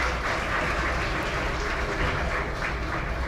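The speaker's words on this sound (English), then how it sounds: "ask a round of applause to our" An audience at the Brasil Investment Forum 2023 applauds its panelists, a steady, sustained wash of clapping from a large room that holds at an even level throughout.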